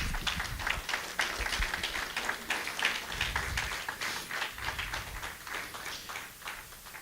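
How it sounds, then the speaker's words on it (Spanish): Church congregation applauding the Lord during a Spanish-language sermon, dense steady clapping from many hands that carries unbroken through the whole stretch. "Denle un fuerte aplauso al Señor."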